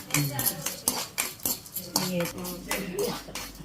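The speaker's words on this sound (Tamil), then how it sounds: "உளுந்தம் பருப்பை இப்படி சவக்க வறுத்துக்கணும்" A metal spoon stirs urad dal and mustard seeds roasting in a pan for tomato chutney, giving quick, rhythmic clinks and scrapes against the pan, close up, with faint speech in the background.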